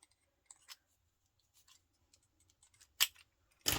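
Scissors trim a paper craft piece in a quiet room, giving several small, close snips spaced irregularly, with a couple of sharper, louder cuts near the end.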